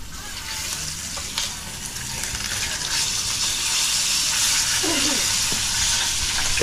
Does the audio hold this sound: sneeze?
no